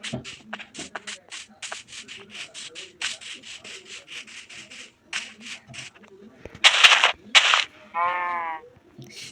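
Minecraft tree chopping: a fast, steady run of soft scraping wood-hit taps, followed by a few louder crunching bursts and a short bleating game sound near the end.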